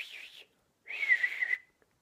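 A person whistles two short, soft, breathy tones close by, a brief wavering note and then a longer steadier one after a pause.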